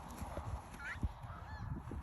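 Ducks gather along a sandy waterside, giving a few short honking quacks at low level among faint scattered background noise.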